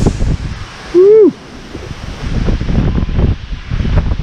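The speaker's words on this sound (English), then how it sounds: "Woo, that wind, it is rough." Strong storm wind roars steadily out of the northeast, a broad rushing noise with gusts that come in waves, plus a brief voiced exclamation near the start.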